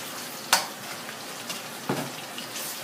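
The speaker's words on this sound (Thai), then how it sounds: "เขาจะทอดกระดูกหมูไปจนซุกแล้วก็กรอบก่อนนะคะ" Steady crackling sizzle of flour-coated pork bones deep frying in hot oil, with a couple of sharper pops and bursts over a constant hiss.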